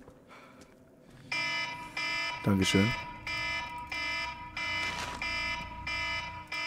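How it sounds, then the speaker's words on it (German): An alarm clock rings in steady repeated electronic beeping bursts of even length, loud and shrill. Someone speaks briefly over it. "Jetzt gleich geht auch der Wecker."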